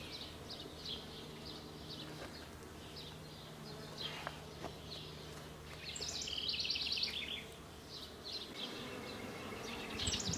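Honeybees buzz steadily around an open hive during an inspection where damaged queen cells turned up, a dense outdoor hum with a few sharper passes of individual bees close by and bird chirps in the background.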